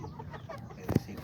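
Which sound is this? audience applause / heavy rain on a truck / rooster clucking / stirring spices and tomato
rooster clucking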